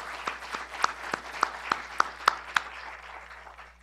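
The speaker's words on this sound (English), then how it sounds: "let's give our faculty a big, big round of applause" Sparse applause from a seated audience honoring faculty at the State of CUNY 2023 event, a few distinct claps spaced out and fading toward the end, heard from a distance.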